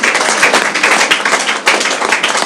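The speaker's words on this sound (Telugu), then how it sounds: "ఒకటిగా చప్పట్లు కొట్టండి దేవుడికి." A church congregation clapping together in praise, loud dense applause of many hands close by, continuous for a couple of seconds with no speech over it.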